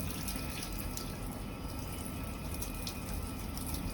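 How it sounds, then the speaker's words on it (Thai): Water gushes strongly and steadily from a tap supplied by a household electric water pump, a dense, even rushing splash that runs without a break and stays loud from start to finish. "น้ำไหลปกติแล้วนะครับ น้ำมันไหลแรงนะครับ น้ำก็ไหลแรง"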